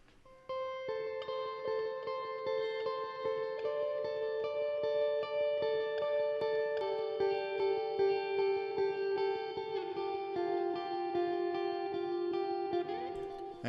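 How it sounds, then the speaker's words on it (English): An electric guitar picks a bright, ringing line of notes, washed in chorus and reverb, playing alone without any talking. "I added a picking, alternating picking part that kind of just added some high-end vibes in the chorus"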